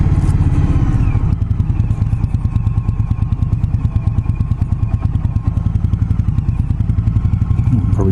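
A 2018 Indian Scout Bobber cruiser motorcycle engine idling loud and close, a deep, rapid, lumpy rumble with rhythmic thumping pulses throughout.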